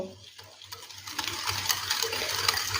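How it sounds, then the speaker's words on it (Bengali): Yogurt and powdered sugar being stirred into refined oil for a frying-pan chocolate cake, with soft, close scraping and swishing strokes that run steadily and unbroken, with no talk. "তেলের সাথে টক দই আর গুঁড়ো চিনি মিশিয়ে নেব"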